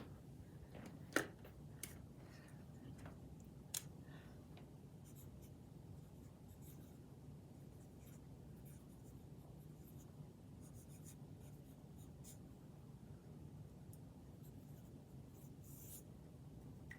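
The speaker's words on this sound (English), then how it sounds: "Have to write it down before I forget." Handwriting with a pen on paper, a steady soft scratching stroke that runs throughout, quiet and close, with a couple of light taps or clicks near the start.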